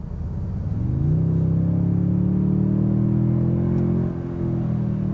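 A Toyota Tundra TRD Pro hybrid pickup with a twin-turbo V6 pulls away under light throttle, its engine note climbing in a steady, close rising drone that holds and then eases off briefly near the end.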